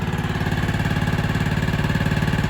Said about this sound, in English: I guess I'll just let it idle for a little while